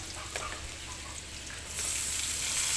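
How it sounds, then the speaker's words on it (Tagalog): Chopped garlic and onions sauté in a pan, a quiet crackling sizzle that swells into a louder, brighter hiss partway through as the ingredients hit the hot oil. "chopped garlic and onions, and saute."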